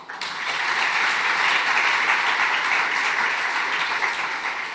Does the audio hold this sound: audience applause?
yes